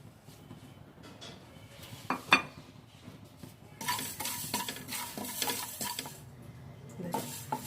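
Fenugreek seeds dry-roasting in a pan, a metal spoon scraping and stirring in bursts that grow louder and busier partway through, close up with no voices.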